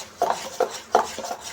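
A pinch of salt stirred into mandas batter in a bowl: about five quick, evenly spaced clinks and scrapes of a spoon against the bowl, close and distinct, with no voices.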